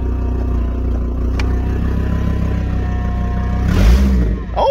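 A cheap off-road project vehicle's engine idles with a steady low rumble and clatter, then swells into a louder push as the vehicle creeps forward, close by.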